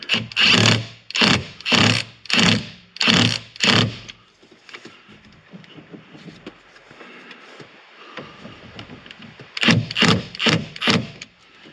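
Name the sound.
bolt being screwed in by hand on Lamborghini Huracan steering wheel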